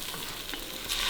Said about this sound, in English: mixing our onion and ginger and garlic until now they're a little bit soft and the flavor come out from the onion